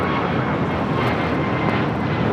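An airplane taking off from runway 25 right at LAX, a loud, steady broadband engine roar that holds close and constant throughout, with no talking.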